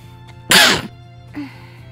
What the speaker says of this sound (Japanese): くしゃみ助かる、いただきました